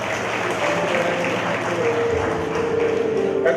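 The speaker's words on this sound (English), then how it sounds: "Please applaud the students" Audience applause at a college of pharmacy graduation ceremony, a steady dense wash of clapping filling the hall throughout, with a faint tone running under it.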